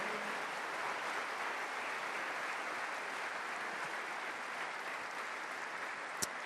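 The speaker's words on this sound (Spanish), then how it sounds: "Dar un aplauso al Señor" A church congregation applauds in a steady, dense wash of clapping that holds evenly throughout, with no talk over it.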